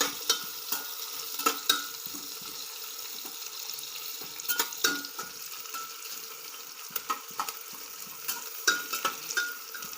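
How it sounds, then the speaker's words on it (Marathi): Vegetables for veg biryani sautéing in a pan until reddish, a continuous close sizzle broken by frequent clinks and scrapes of a spoon stirring against metal, with no voices. "चांगलं परतून घ्यायचा लाल होईपर्यंत"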